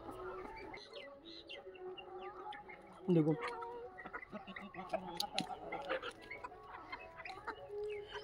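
Free-range desi hens cluck and chatter nearby, with a louder squawk partway through, while a person speaks briefly over the birds.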